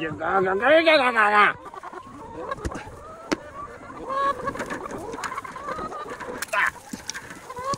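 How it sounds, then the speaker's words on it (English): A broody hen in a nest box gives a loud, drawn-out warbling cluck up close, followed by softer grumbling clucks and rustling, with a person speaking quietly at times. "complete with broody hen that's probably gonna bite my hands"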